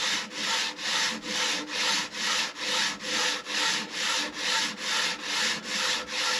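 Three wooden guitar back braces are held together and sanded by hand, producing a steady rhythmic rasp of even back-and-forth strokes, about two per second, close and alone.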